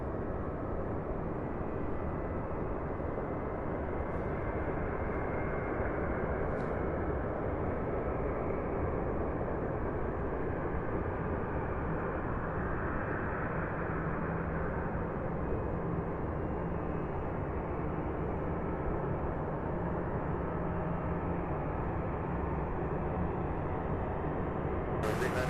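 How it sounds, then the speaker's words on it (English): Boeing 737-900 arriving from Atlanta at Louisville airport, a steady broadband jet roar holding at constant loudness throughout, near and continuous with no talk over it. "that 737-900 coming in from Atlanta, Georgia"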